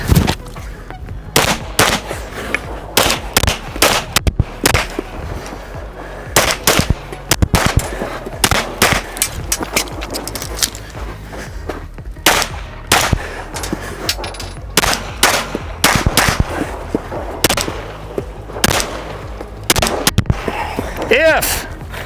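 Rapid strings of close, loud pistol shots fired on a USPSA shooting stage, sharp cracks in quick bursts with brief pauses between target arrays, running steadily for over twenty seconds outdoors.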